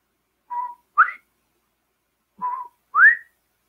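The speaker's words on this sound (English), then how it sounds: "first time I heard that, I knew that was a bobwhite" A bobwhite on an Indiana farm on a sunny afternoon calls twice in clear, whistled pairs, a short flat note followed by a louder upslurred one, with quiet pauses between them.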